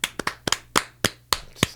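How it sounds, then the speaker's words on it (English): A handful of sparse, irregular hand claps from a small comedy-podcast audience, about nine distinct sharp claps over under two seconds, fairly quiet and close with no voices over them. "Nice round of applause for that."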